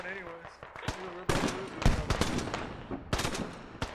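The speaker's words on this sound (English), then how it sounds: "you see that grenade launcher just trying to do work" Combat in a military video game with USMC and Chinese marines: a grenade launcher and other weapons let off rapid loud bursts and sharp impacts, with a voice talking over the gunfire.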